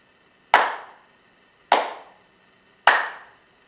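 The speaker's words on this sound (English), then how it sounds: "Let's try that with the clapping." Three single hand claps keep an even one-syllable beat, each sharp and close, spaced a little over a second apart, with quiet gaps between and no voices.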